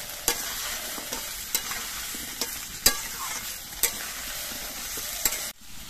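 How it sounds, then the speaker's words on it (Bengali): Potato, cauliflower and carrot fry with dalia in a pan, a steady sizzle broken by a series of sharp spatula scrapes roughly every second as the vegetables are stirred, with no talking. "এবার সব সবজিগুলো কিছুক্ষণ ভেজে নিতে হবে।"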